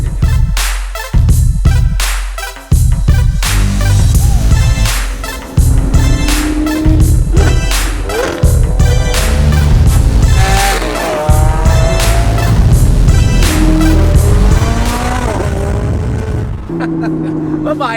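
Lamborghini Aventador SV Roadster engine as the car pulls up and drives off, loud roaring revs and squealing tires rising and falling over about eighteen seconds, with excited voices shouting over it.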